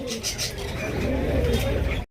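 A pair of big black homer pigeons, A-grade birds at a pigeon seller's, coo steadily for about two seconds, close and fairly loud, with soft murmuring and flutters around them.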